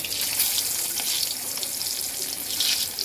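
Rohu fish dropped into hot oil gives a loud, dense, continuous hiss that holds steady throughout.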